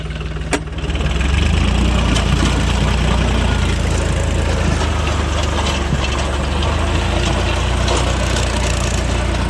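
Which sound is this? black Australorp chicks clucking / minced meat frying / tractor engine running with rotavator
tractor engine running with rotavator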